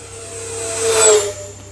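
An X-fly Su-57 twin 40mm EDF RC jet on a 4S 2200 pack flies past at 40% throttle, its steady ducted-fan whine and hiss swelling briefly near the middle and then easing off, with no voices.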